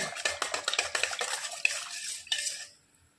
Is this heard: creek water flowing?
no